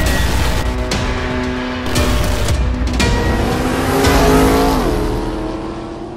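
A 2020 C8 Corvette with a Corsa exhaust and bolt-on parts drives hard, its engine loud and close as it revs up through gears, with the pitch climbing, dropping and climbing again.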